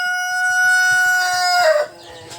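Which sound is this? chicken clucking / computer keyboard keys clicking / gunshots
chicken clucking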